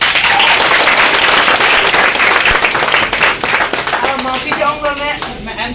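Loud, continuous applause and clapping from an audience fill an opening event for an amusement venue in Bhagalpur, India, with crowd voices mixed in and the clapping thinning out toward the end.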